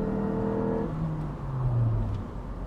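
An MGF sports car engine accelerating, heard close and loud as a steady engine drone that climbs in pitch through the gears, with no voices over it.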